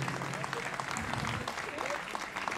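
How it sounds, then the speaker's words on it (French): A crowd applauds steadily throughout at an outdoor country music festival in Coudray-Montceaux, France, with a voice talking over the clapping. "Ils sont là, monsieur et madame Martinez, je voudrais qu'on applaudisse"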